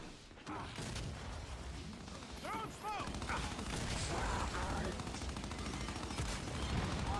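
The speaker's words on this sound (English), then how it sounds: "This guy's he's just shooting through the smoke." Gunfire in the shooter game Gears of War: E-Day during online multiplayer, bursts crackling steadily through a dense, busy mix of game effects with someone talking over it.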